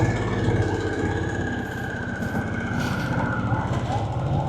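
A Harley Davidson Sportster S 1250 engine runs steadily at close range with a deep, continuous rumble and an even rhythm throughout.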